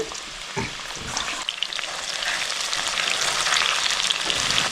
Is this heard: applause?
no